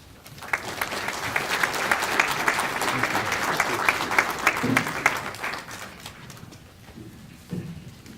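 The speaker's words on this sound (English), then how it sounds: "please join me in welcoming Aubrey and Terry" An audience applauds to welcome two speakers at a community event in Reno County, a dense, steady burst of clapping that peaks and then gradually thins out, with a few murmurs near the end.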